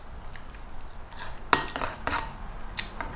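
Spoon stirring and scraping broccoli salad in a bowl, with soft clinks and a sharper knock midway over a low steady background hum, close and moderately quiet, no voices.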